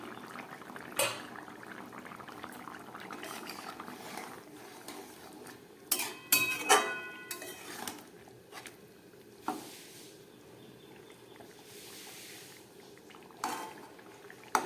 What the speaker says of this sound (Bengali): ঢাকা খুলছি।